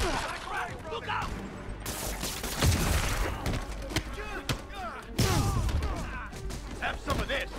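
Gunfire from a fight in Marvel's Spider-Man on PS4, bursts of shots and impacts scattered through dense game action, with shouting voices mixed in throughout.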